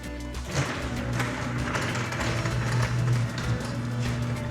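A garage door opener raises a Wayne Dalton door fitted with Torquemaster Plus springs, giving a steady, continuous motor hum with a faint mechanical rattle throughout.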